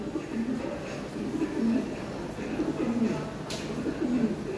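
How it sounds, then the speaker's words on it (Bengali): Large toy Lahori Sirazi pigeons at a seller's loft coo in repeated low rolling phrases, fairly close, while people talk in the background. "বিগ সাইজের একটা পেয়ার ফ্রেশ মার্কিং একদম হ্যাঁ বাঘের মতো সাইজ অনেক বড় সাইজের কবুতর"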